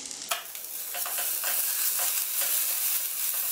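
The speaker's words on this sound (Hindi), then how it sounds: "उसमें मैं ब्रोकली डाल दूंगी और इसको 2 मिनट के लिए सॉटे कर लूंगी" Broccoli and onions sautéing in a pan give a steady, close hiss, with soft scraping stir strokes repeating about every half second and no voices.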